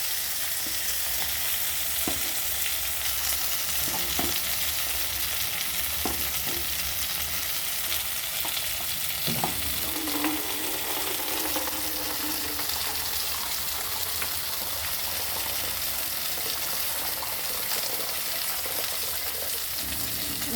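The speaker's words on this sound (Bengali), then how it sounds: "এবার আমি এর মধ্যে জল দিয়ে দিই।" A steady, loud sizzle fills a frying pan as water is poured in, with occasional stirring scrapes and clinks over the constant hiss throughout.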